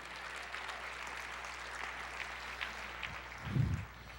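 A church congregation applauds during a sermon, a steady wash of clapping that holds at an even level, with a low thump near the end.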